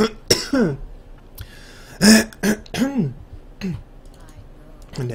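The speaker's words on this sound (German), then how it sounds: "Netter Husten." A man gives a few sharp throat-clearing coughs close to the microphone, spaced over several seconds, with keyboard clicks nearby.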